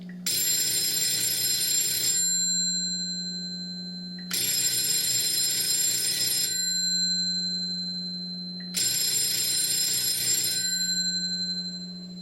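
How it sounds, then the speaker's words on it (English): Telephone bell ringing produced by a 551A PBX operator key held forward and released, giving three long rings of about two seconds each separated by roughly two-second silences, loud and close with no talk. "in order for the operator to produce a typical telephone company type ringing cadence, the operator would have to hold it forward, release, hold it forward"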